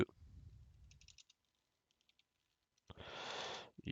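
Keys on a computer keyboard are tapped in a few quiet, sparse clicks, followed by a short burst of louder rapid typing near the end amid near silence.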